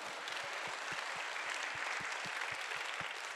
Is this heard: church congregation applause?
yes